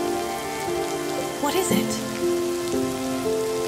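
Steady rain patters as an audio drama effect, with a soft sustained musical tone beneath and a brief spoken line partway through.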